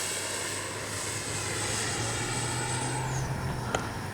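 A radio-controlled L-39 model jet flies overhead, its turbine giving a steady, moderately distant whine and rush that holds evenly and rises in pitch near the end, heard alone without talk.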